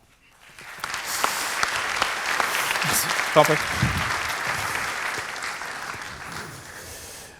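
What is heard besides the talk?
audience applause for conference speaker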